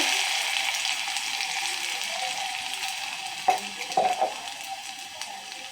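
Chopped onions sizzle in a frying pan while cooking for a lentil mash, a steady close hiss with a few clinks and stirring knocks midway.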